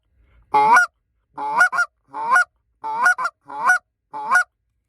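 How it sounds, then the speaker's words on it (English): A short reed Canada goose call is blown in six sharp, loud honks, some doubled into quick two-note clucks, spaced about half a second apart against silence. "give it a little bit deeper sound with that goose call"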